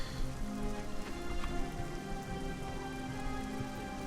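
Steady rain in the video game Oblivion pours down in a dense, continuous hiss, loud and close, with no voices over it.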